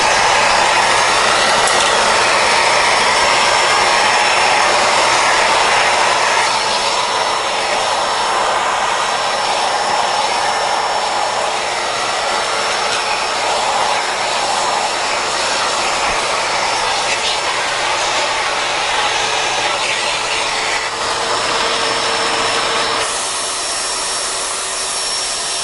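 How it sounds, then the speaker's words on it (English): A Bissell Pet Hair Eraser Turbo Plus vacuum, used as a handheld, runs with a loud steady whine and roar while sucking up spilled popcorn, continuous and close with slight shifts in pitch throughout. "So we're going to clean up this popcorn that I've spilled."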